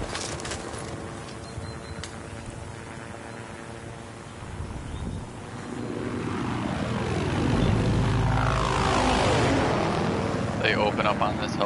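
A helicopter in a military simulation game passes overhead, its rotor drone building from a low rumble to a loud close sweep that peaks and fades slightly, with faint voices underneath.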